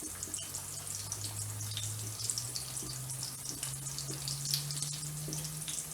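Sausages fry in a pan, a soft continuous sizzle with light crackle under a faint low hum, fairly quiet and steady.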